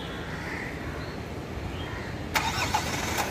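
Kia Seltos HTX diesel engine starting by remote start, heard from nearby: a steady low engine hum, then a brief cranking burst as it catches and settles.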